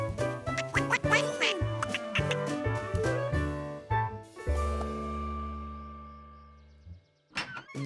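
Cartoon ducks quack at a pond in a series of short, bright, bouncy honks, set against playful animated music and comic sound effects.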